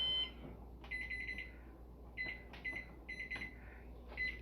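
A kitchen timer beeps in short repeated bursts of high electronic tones, several clusters spaced a second or so apart, fairly clear over a quiet room while tilapia is prepared for broiling.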